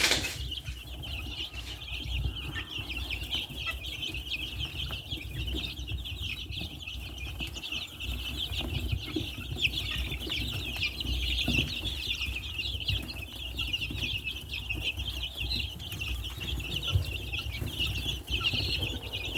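Nineteen-day-old chicks clucking and wings flapping in a busy, continuous din, with high chirping throughout and occasional louder bursts of fluttering.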